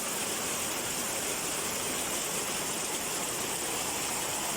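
Heavy rain pours steadily outside a small cemented store, a dense, even hiss of downpour filling the whole stretch without a break and with no talking.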